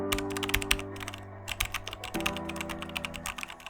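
Typing on a computer keyboard: a quick, irregular run of crisp key clicks, close and clear over a steady low hum, with no talk.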